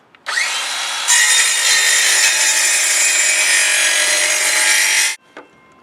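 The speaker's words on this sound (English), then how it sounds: "Use the square as a guide and cut your 45." A handsaw cuts a 45-degree angle through wooden baseboard trim guided by a square, a steady close rasping stroke of about five seconds, then a brief clack as it finishes.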